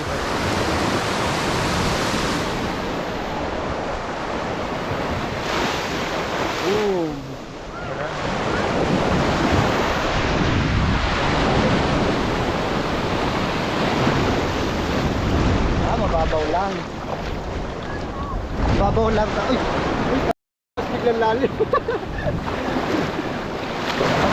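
Surf rolling in at Patar Beach in Bolinao, Pangasinan, a loud continuous roar of breaking sea waves close by, with wind rumbling across the microphone and a brief drop-out near the end.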